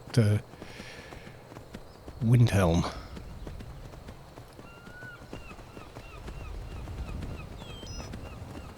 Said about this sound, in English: So this is me trying horse riding for the first time with these new textures.